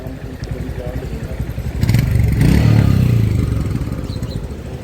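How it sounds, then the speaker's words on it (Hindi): A rebuilt motorcycle, just back from its final test ride after repairs at a mechanic's shop, idles with a steady mid-pitched thrum, then revs up louder and settles back down; people talk over it. "हमारी बाइक फाइनल टेस्ट राइड से आ गई बनने के बाद"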